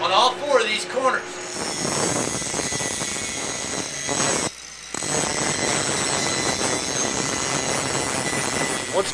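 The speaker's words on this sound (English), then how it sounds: "we want to take time now to put a good bevel on all four of these corners" Angle grinder beveling the four corners of wrought iron stair rail stock, a loud continuous harsh grind that pauses briefly midway and then resumes, with a few short bursts at the start.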